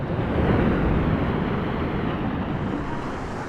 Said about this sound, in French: La mer s'agite.